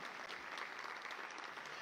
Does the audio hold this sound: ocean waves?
no